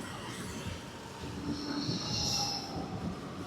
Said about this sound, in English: There's one of the trams